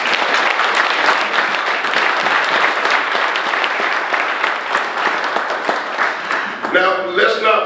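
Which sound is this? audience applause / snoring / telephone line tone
audience applause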